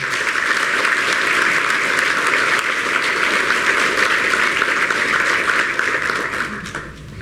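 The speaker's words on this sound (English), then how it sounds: "Let's give him a warm round of applause" A lecture audience at a UCT inaugural lecture gives loud, sustained applause, a thick even roar of many hands clapping that holds steady and then tapers off in the final second.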